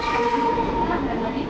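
A train rushes past a railway station platform in a brief, steady, loud rumble with a faint clatter, while voices carry in the background.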